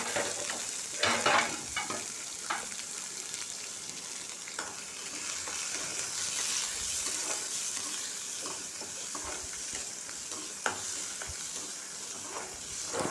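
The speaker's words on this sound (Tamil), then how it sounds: "இப்போ வெங்காயம், பச்சை மிளகாய், கருவேப்பிலை கொட்டி கொஞ்சம் வதக்கணும்." Onion, green chili and curry leaves sauté in a hot pan with a continuous bright sizzle, punctuated by scraping stirs and small pops, close and without speech.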